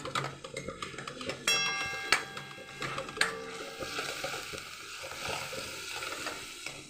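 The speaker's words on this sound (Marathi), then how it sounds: "आणि चांगलं हलवून घेऊया." Chilli, garlic, spices and tomato puree being stirred in a hot pan over a medium flame, with irregular scraping and clicking knocks from the spoon over a soft sizzle and no talking.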